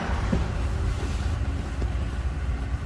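The V12 engine of a 1948 Lincoln Continental convertible runs after a cold start, giving a steady, close, loud low rumble with no pauses.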